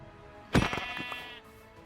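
Sheep bleating in the Minecraft video game: a single wavering, nasal bleat, close and clear, fading after about a second against a quiet background.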